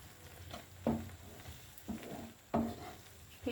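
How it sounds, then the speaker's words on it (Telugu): Rice flour being stirred into liquid in a pot on the stove for bellam taalikalu, with four soft, close scraping strokes over a low, steady background hiss. "కప్పు బియ్యం పిండి, మొత్తం కలుపుకోవాలి"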